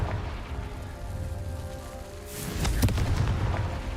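A fiery spell blast in the game Hogwarts Legacy erupts partway through, a sharp boom with crackling debris over a low ambient rumble, followed by scattered crackles as it settles.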